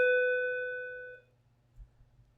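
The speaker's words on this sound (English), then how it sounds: "Oh, wait for the bell here to stop ringing." A single bell strikes once with a clear metallic ring that sustains and decays over about a second before fading into quiet room noise.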